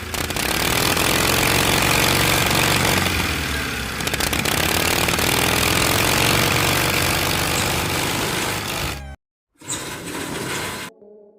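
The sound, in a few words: Harley-Davidson V-twin motorcycle engine running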